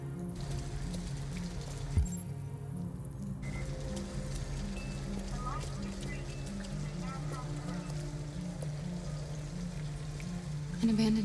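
Rain falls in the Detroit: Become Human video game, a steady soft hiss that runs through the whole scene under low, sustained tonal background sounds.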